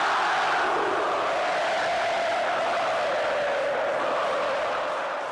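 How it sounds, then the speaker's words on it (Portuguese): Cruzeiro football supporters cheering and celebrating at a home match, a broad sustained roar of a large crowd that holds steady and then slowly fades, distant and enveloping. "Festa da torcida"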